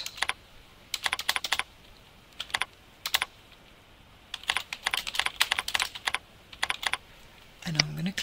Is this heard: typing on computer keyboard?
yes